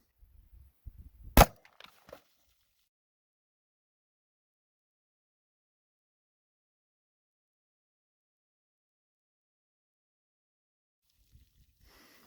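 One sharp, loud report from a .45 ACP pistol firing a Buffalo Bore +P 255-grain hardcast round into water jugs, a single crack after a few soft handling noises, then near silence.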